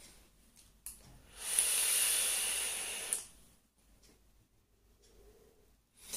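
Vapour drawn through an Aspire Feedlink kit with a Revvo atomizer makes a steady airy hiss. It lasts about a second and a half, swells in the middle and stops abruptly, close up with no talk.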